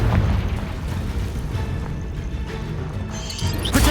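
Fire spell blasts in the Hogwarts Legacy video game, a continuous rumbling boom with a brief dip before a fresh burst swells near the end, loud and dense throughout.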